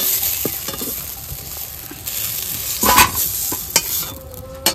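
Okra sizzles and fries in hot oil in a kadai, a steady loud crackling hiss broken by a few sharp stirring scrapes and clinks, with no voices.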